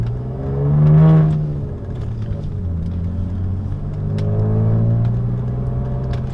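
A used Saab 9-3 Turbo X with a 6-speed manual and 175,000 miles fires up nearby. Its engine swells in a loud rev, settles into a steady idle, then climbs again in a second, gentler rev.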